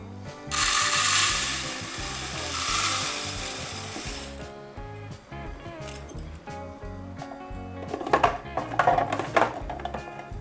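A blender grinds unhulled mung beans, with a loud whirring grind for about four seconds, then rattling and knocking as the motor slows and the beans settle, close by with no talking.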